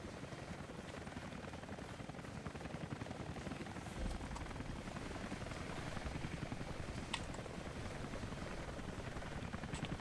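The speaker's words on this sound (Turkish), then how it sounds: "Şu oyun başından beri bir helikopter." A helicopter in the video game Rise of the Tomb Raider drones continuously for about ten seconds, a steady broadband rotor rumble at moderate, even loudness with no talking over it.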